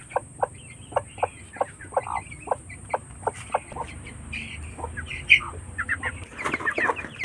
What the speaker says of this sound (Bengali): এই দেখো, মুরগিটা চলে এসেছে